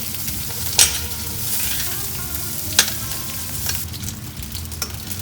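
A knob of butter foams and sizzles in a pan after the old fat is poured off, a steady bright crackle with a couple of sharp spoon clicks against the metal.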